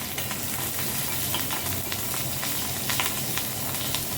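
Green chilies and cumin seeds sizzle steadily in melted ghee, a dense, continuous frying hiss with small crackles and pops throughout, close and loud with no voices.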